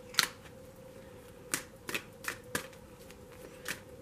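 Oracle cards are shuffled at a tarot reading, giving several crisp, quiet riffles and snaps spaced irregularly over a faint background hum.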